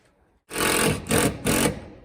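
A power tool tacks trim around a cabin window with three quick, loud, close bursts: a long whirring burst, a short gap, then two more in quick succession, with no talking.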